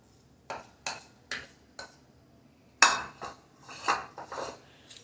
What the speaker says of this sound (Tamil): சேர்த்து நல்லா கலந்து விட்டுக்கலாங்க